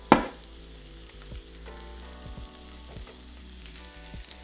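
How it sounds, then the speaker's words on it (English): Shrimp cooking in a pan on low heat, a gentle steady sizzle with a sharper crackle at the start and faint pops throughout, no voices. "we're just gonna cook these shrimp until they're done"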